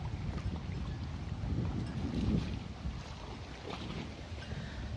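Evening wind blowing over a lake in the Schafberg mountain area, a steady low rumble of gusts buffeting the microphone with a swell near the middle, with no talking.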